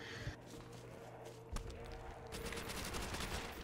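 Gunfire in Call of Duty Zombies on a custom map, a few sharp shots followed by a longer burst of rapid fire, with game sounds underneath and faint talk.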